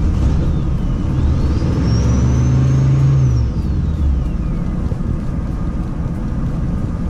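An RV engine with a choke problem cranks and labors, a loud continuous low rumble with a rising and falling whine that fades back into steady engine noise.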